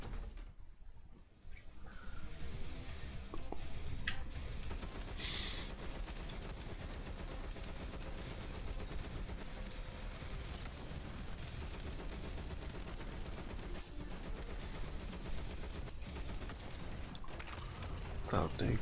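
Continuous automatic gunfire and battle noise in the shooter game Evolution 2: Battle for Utopia, dense rattling bursts holding steady after a brief quieter start, with someone talking intermittently over the combat.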